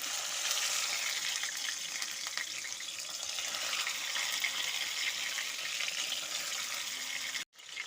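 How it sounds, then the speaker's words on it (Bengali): Chicken pieces frying in mustard oil in a pan, a steady, close, bright sizzle that hisses evenly for several seconds before cutting off briefly near the end. "এখন আমি চিকেন পিসগুলোকে তেলের মধ্যে ভেজে নেব।"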